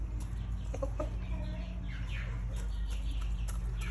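Free-range backyard chickens about nine months old cluck and chirp in short bursts over a steady low background hum, with a few sharper calls standing out.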